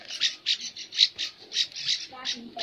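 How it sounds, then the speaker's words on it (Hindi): A small hill bird in Uttarakhand squawks repeatedly over rice set out on a wall, with sharp, evenly spaced calls close by and no other sounds. "तो थोड़ी देर बाद वहाँ पर एक चिड़िया आई"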